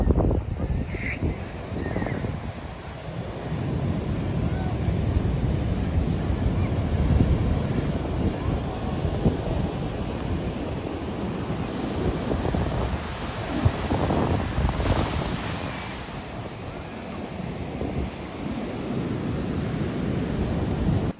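Strong wind buffets the microphone on Blyth Beach at high tide, with surf rolling in underneath as a steady, loud, broadband roar that swells and eases through the whole stretch, no voices.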